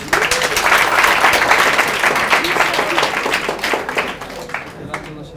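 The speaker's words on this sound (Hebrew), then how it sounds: "מחיאות כפיים!" Audience applause from students in a yeshiva study hall, a dense, steady clapping that fills the room for several seconds before thinning toward the end.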